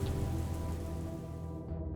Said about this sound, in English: Rain had just started hitting the streets when Cole Walker and his best friend Ryan Br